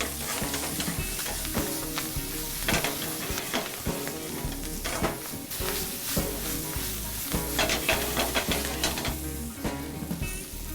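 Zucchini and garlic sautéing in a hot pan, a dense continuous sizzle broken by frequent scraping and stirring clatters of a utensil, close and loud.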